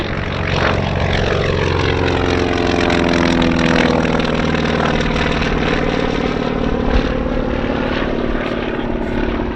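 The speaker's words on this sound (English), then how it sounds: "And here goes the hero of Midway, the Douglas Dauntless." A Douglas Dauntless World War II dive bomber passes at an airshow, its radial propeller engine a loud, steady drone that swells and lingers throughout, with no talk over it.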